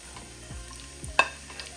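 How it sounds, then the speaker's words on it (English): Chopped vegetables for chicken soup sauté in butter and oil, a soft continuous sizzle broken by a few clinks and stirring knocks, one sharper scrape standing out briefly. "I want these to saute a bit so that they release kind of like some of their sugars and get a little bit brown."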